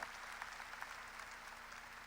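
A church congregation claps together during a sermon, a steady, dense patter of many hands held at an even level, heard faintly and somewhat distant with no voice over it.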